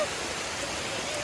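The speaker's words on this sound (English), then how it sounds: "It's raining." Steady rain falls across a hiking trail near a waterfall overlook, a close, even hiss of drops that continues without pause for the whole short stretch.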